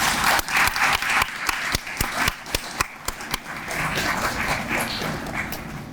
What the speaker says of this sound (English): I want to give you a round of applause and thank you.